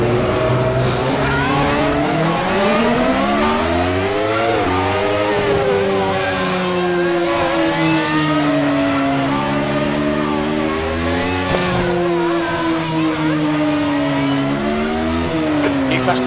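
A 1991 Benetton B191 Formula One car in Assetto Corsa laps Estoril, its high-revving engine screaming loud and continuous from onboard, pitch climbing through the gears and dropping on downshifts, with brief tyre squeal.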